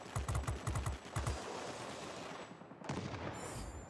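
Rapid bursts of aircraft machine-gun fire in the World of Warplanes video game, loud and close in several quick volleys, then engine and battle noise with another rising burst at the end.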